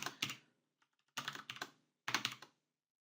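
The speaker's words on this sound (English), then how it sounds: "and then I type in my site" Computer keys are typed close up in three short bursts of rapid clicks, with pauses between them and nothing else in the background.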